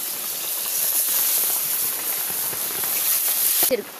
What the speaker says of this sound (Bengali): কড়াইয়ে এখন এই মশলা বাটাগুলো দিয়ে দিব